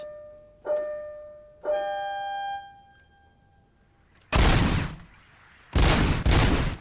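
Gunfire in the RoboCop: Rogue City game: after two ringing electronic tones, loud bursts of heavy automatic shots come in three separate volleys, close and without talk.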